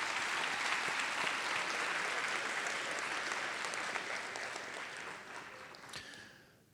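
A convocation audience for a nursing school applauds graduating teams at an evening ceremony, a dense sustained burst of many hands clapping that holds steady and then tapers off near the end.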